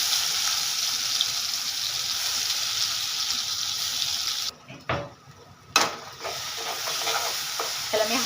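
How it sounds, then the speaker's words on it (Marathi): Ground wet spice paste (vatan) frying in hot oil on a high flame for a fish thali: a loud, dense sizzle that drops away for about a second and then surges back, with a faint watery hiss beneath. "त्याला मी हाय फ्लेमवरती छान 1-2 मिनिटासाठी परतवून घेतलं."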